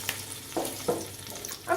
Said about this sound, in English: we have to let the onions sweat a bit